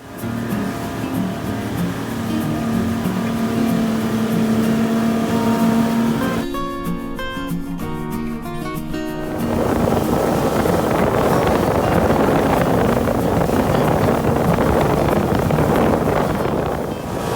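A motorboat engine off Cozumel, Mexico hums steadily under rushing wind and water noise, briefly shifting to a tonal mechanical drone midway before the rough wind-and-water roar returns.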